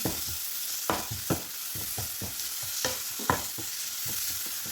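Onions sautéing with salt in a pan for potato masala, a steady sizzle broken by a series of sharp scraping stirs at irregular intervals, close and fairly loud with no one talking.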